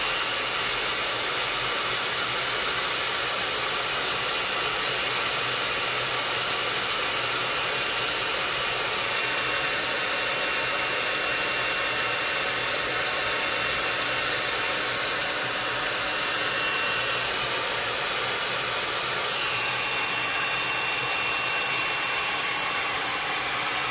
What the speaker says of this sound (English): I'm going to use my blow dryer just a little bit to dry it off a little quicker